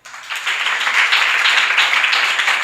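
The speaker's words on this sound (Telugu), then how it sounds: "చప్పట్లు కొట్టండి." A church congregation claps hands together during a sermon: a dense, loud burst of applause that swells quickly and holds steady for a couple of seconds.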